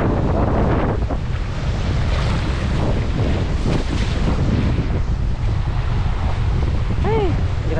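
Strong typhoon wind roars in Palawan, a loud, constant buffeting rush that batters the microphone with heavy low rumble throughout.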